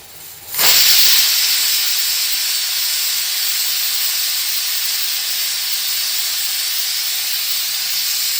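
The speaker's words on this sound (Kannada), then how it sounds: "ಕುಕ್ಕರ್ ಲಿಡ್ ಕ್ಲೋಸ್ ಮಾಡ್ಕೊಂಡು ಮಿನಿಮಮ್ ಒಂದು 3 ವಿಸ್ಲ್ ಹಾಕಿಸ್ಕೊಂಡ್ಬಿಟ್ರು ಸಾಕ್ರಿ" A pressure cooker on a stove, cooking sprouted horse gram, suddenly bursts into a loud, sustained hiss of escaping steam that holds steady for several seconds with nothing else heard.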